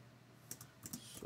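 Keystrokes on a computer keyboard while writing React code, a few quick faint clicks in a short burst over low room hum.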